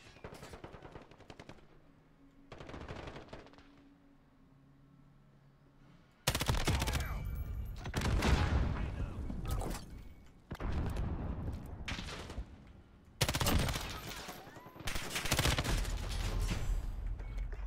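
Bursts of rapid automatic gunfire in a first-person shooter video game, some quiet and distant at first, then loud, dense sustained volleys in close succession.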